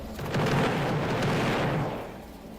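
Roblox explosion on a cart-ride course, a broad rumbling boom that swells quickly, holds for about a second and a half, then tails off, with no voices.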